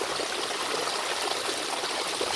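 Hot spring water flows steadily from its source at the head of a stream, a continuous close trickling and babbling with no pauses or voices.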